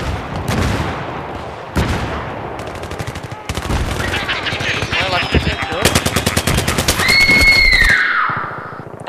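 Automatic weapons fire in Battlefield 3, dense rapid bursts of machine-gun shots in repeated strings with short gaps, loud and close, with other game effects mixed in.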